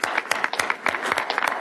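Audience applause after workshop presentations at an event, a short burst of scattered clapping from a modest crowd, heard fairly close and alone.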